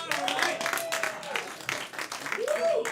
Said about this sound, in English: Clap for them, everyone.